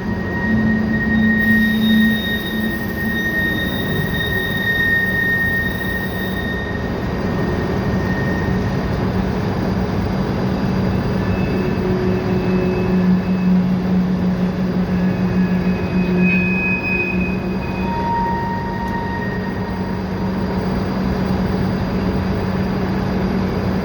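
A steady rumble of freight train cars rolling past, with faint metallic squeals and tones drifting over the continuous low noise, no talking.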